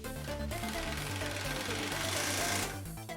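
A power tool rattles in a rapid, continuous burst while bolting a 2015-2017 Ford F-150 4WD sway bar into new drop brackets during a suspension lift install, fairly close and dropping off briefly near the end.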